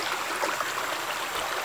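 Water in a stream flows under the cover of trees with a steady, close, soft hiss and gurgle, continuous and unbroken, with no voices.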